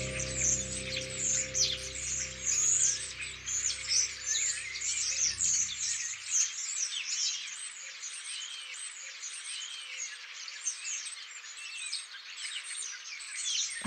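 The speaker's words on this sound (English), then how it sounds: "High above the lawn, formations of birds float around in the sky." Several birds sing and chirp together in a spring garden, a dense, continuous chorus of bright calls heard throughout, with a low rumble fading out in the first few seconds and leaving the birdsong alone.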